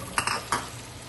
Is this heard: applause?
no